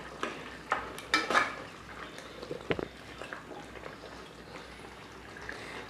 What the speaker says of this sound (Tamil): அதோடு இதை சேர்த்துக்கிறோம். அதோட சேர்த்து கிண்டிக்கிறோம்.